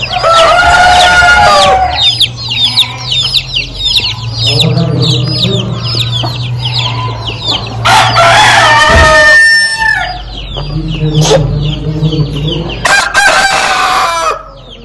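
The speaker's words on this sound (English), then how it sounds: "Yes, little black and white chickies." Black and white chickens at a stockyard cluck steadily and crow repeatedly, loud and close, with overlapping calls and a low hum of other livestock beneath.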